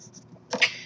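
One short, sudden sneeze bursts out in a quiet room, a sharp breathy snap heard up close after a moment of near silence.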